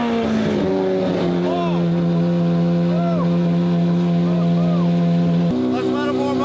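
Hypercar engine idling steadily with a loud, constant low drone, several cars warming up together at Monterey Car Week, with a brief shift in engine note near the end and faint voices in the background.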